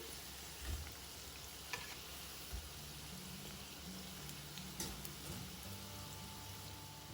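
Moong dal vadas (pesara vada) deep-fry in oil, a steady fine sizzle with soft bubbling and occasional low knocks, close and continuous without talk.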